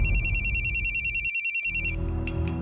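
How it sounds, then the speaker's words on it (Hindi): A telephone rings in quick repeated electronic pulses for about two seconds, loud and close, then cuts off into low room background with no talking. "उसके बाद फौरन मैंने मुकेश को फोन लगाया।"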